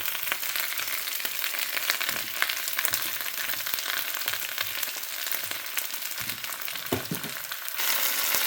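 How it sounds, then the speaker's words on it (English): Potatoes brown in a skillet with a steady, crackling sizzle of hot oil, dense and continuous with small pops throughout, heard alone without talk. "I'm just going to let my potatoes brown"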